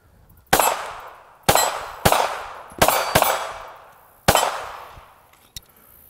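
Six sharp gunshots from a Kahr CW380 pistol at a range, fired in an uneven rhythm with short decaying echoes between them, loud and close with no talking.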